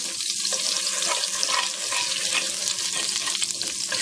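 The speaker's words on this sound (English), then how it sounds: "That's just about 2 tablespoons of unsalted butter. Just going to kind of melt that down in there." About two tablespoons of unsalted butter melt and sizzle in a pot for Cajun pasta with leftover sausage bits, giving a steady close frying hiss with faint stirring scrapes and no talk.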